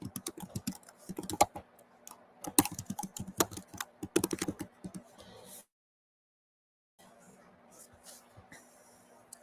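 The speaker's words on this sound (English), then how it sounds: "Let me type it in here." Quick typing on a computer keyboard nearby, a busy run of clicky keystrokes, then a few seconds of silence before quieter room tone returns with a faint hum.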